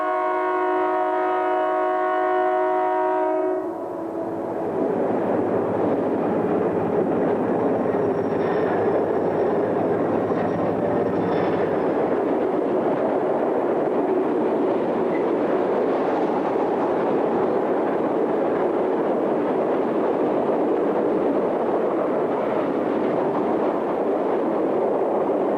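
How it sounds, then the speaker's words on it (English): An eastbound grain train headed by a Chessie GP30 and a pair of National Rail Leasing F45 diesels rolls by loud and close. A horn blast opens, then a sustained heavy rumble of locomotives and wagons continues throughout. "a pair of National Rail Leasing F45s, number 6635 and 6642, head up an eastbound grain train"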